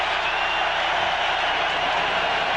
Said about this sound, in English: Crowd raising the roof tonight